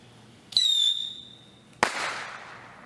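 A whistling firework launched outdoors gives a loud, shrill whistle that slides downward for about a second, then a sharp bang follows and fades into a crackling tail.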